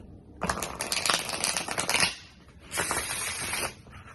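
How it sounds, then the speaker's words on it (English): Two bursts of crisp, rattling riffle-shuffling of stiff, thick-cardstock tarot cards, close up, the first longer, with a short pause between. "with the cardstock being slightly thicker than what I'm used to, it's a little hard to shuffle"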